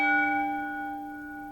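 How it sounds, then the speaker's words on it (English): A hand bell rung in a classroom-style workshop as a signal to return to seats, one clear ringing tone that decays slowly and sustains alone without talk. "sometimes I'll ring this bell"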